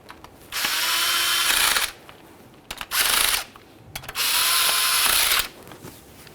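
A power tool driving home the transmission shift solenoid bolts on a 1998-2011 Ford Ranger, three close whirring bursts of one to two seconds each, separated by short pauses.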